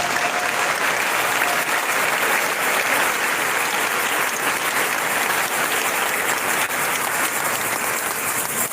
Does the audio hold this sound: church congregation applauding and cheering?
yes